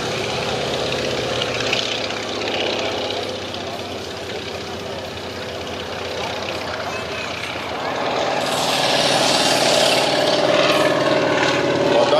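An Antonov An-2 biplane drones steadily overhead on a fast flyover at an air show, its engine noise swelling louder toward the end as it passes close by.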